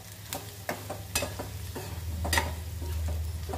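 Red chili powder and turmeric frying in oil, a soft sizzle under a series of crisp spatula taps and scrapes on the pan, close and fairly quiet, with no speech.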